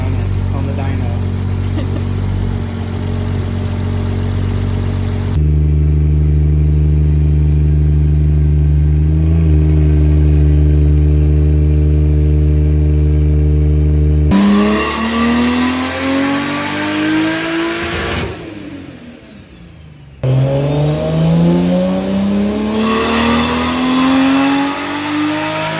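Nissan 370Z Nismo with a swapped Toyota JZ engine running on a dyno, a loud sustained engine drone that climbs in pitch through repeated hard revving pulls, with a voice heard briefly.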